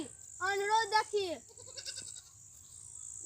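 A goat on a farm bleats in a quavering call of several pulses, close and clear, over a steady high background hum of insects, followed by quieter rustling.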